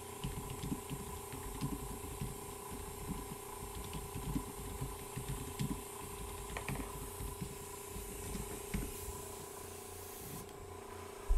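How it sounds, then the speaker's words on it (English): Airbrush misting thinned green paint, a continuous hiss of air spray with a steady mechanical hum beneath, faint and even throughout with small clicks, then a brief bump at the end. "I'm pulled way back, and all I'm doing is I'm just misting him."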